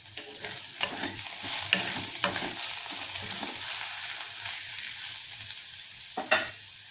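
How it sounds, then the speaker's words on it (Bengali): Steady sizzle of garlic frying in oil with scraping stirs of a spatula, a few sharper clinks of the utensil against the pan, close up and continuous. "একটু ভাজা হয়ে যাক রসুনটা, একটু কাঁচা গন্ধটা চলে যাক"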